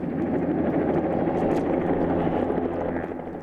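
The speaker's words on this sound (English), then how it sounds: "the sound of helicopters flying overhead remains a comfort" Helicopters fly overhead while fighting a mountain forest fire, producing a steady, fairly faint rotor drone that holds throughout and tails off slightly at the end.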